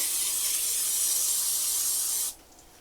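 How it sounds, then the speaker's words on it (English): Cooking spray hisses steadily into a glass loaf pan held over a sink, a single continuous bright spray lasting a couple of seconds before cutting off abruptly into quiet. "I always like to spray over the sink"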